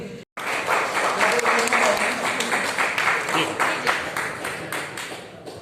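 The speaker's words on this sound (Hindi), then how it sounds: "जोरदार तालियां बजाकर स्वागत है" Steady applause from a crowd, many hands clapping together at a sustained, even loudness, with a brief pause at the start.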